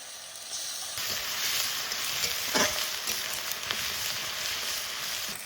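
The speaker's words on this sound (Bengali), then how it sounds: "আদা রসুন পেঁয়াজ একটু কষিয়ে নিয়েছি" Ground onion, ginger and garlic paste sautés in hot oil with a dense, continuous hiss that jumps louder after the first second, a brief scrape of stirring midway, close and without voices.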